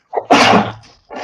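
A single sharp, loud sneeze bursts out nearby with a short breathy intake just before it, followed by a brief pause and the start of another sound.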